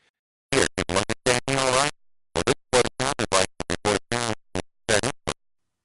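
Choppy, heavily distorted digitized audio in short bursts with silent gaps between them, harsh and crackly like a crude low-fidelity recording, captured through an Apple II cassette input.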